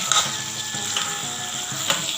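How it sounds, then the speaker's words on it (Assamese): Tomatoes and peas frying together in a pan, a continuous bright sizzle with soft clicking and scraping from stirring, close and even throughout. "বিলাহীখিনি আৰু মটৰখিনি একেলগে দি পেলাই আমি এতিয়া ভাজি থাকিম"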